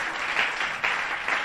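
A church congregation applauds to acclaim God, a dense, steady clapping of many hands in a worship service, rising and falling slightly in a few swells over a moment.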